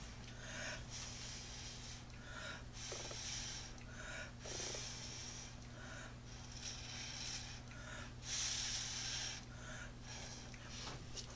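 Someone blowing through a straw onto poured paint, a series of soft breathy gusts of air at close range over a low steady hum, with no talking.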